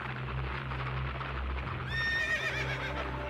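Shandong horses on the open steppe: a low, steady rumble of hooves runs throughout, and a loud, wavering whinny rises partway through and carries to the end.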